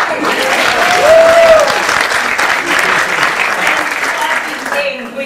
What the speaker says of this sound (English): every time I say Judith, it should be a big round of applause